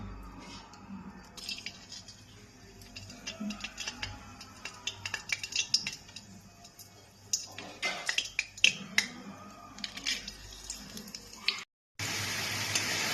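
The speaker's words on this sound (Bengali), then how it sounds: "তেলটা গরম হয়ে গেছে এবার তেলের মধ্যে আমি জিরে তেজপাতা আর একটা শুকনো লঙ্কা ফোড়ন দিয়ে দিচ্ছি" Cumin seeds, a bay leaf and a dried red chili hit hot oil, producing quiet scattered crackles and spits with utensil clinks against the pan, ending in a louder burst of sizzle.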